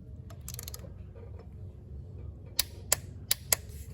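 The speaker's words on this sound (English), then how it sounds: "I like that ratcheting effect." A ratchet fitted with a short extension clicks close by, giving four sharp, evenly spaced clicks over a low background hum, after a few faint earlier taps.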